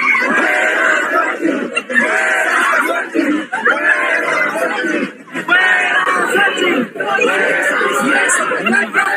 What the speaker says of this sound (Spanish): así es como gritaron los estudiantes de la Universidad de Guadalajara